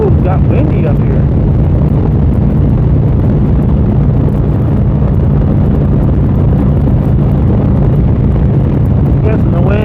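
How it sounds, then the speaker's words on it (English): Strong wind on a hilltop batters the microphone with a loud, continuous low roar and rumble that holds steady throughout, close and heavy. "Ooh, it's got windy up here."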